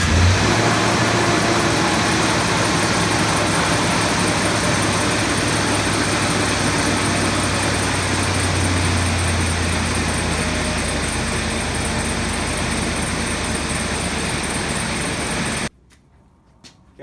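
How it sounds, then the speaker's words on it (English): Truck engine started up and left running so its oil pumps through after an oil change, a loud steady mechanical drone close by that holds evenly for about fifteen seconds, then cuts off abruptly into near silence. "I'm going to go ahead and run the truck for a minute, let it pump the oil through"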